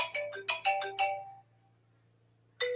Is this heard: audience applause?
no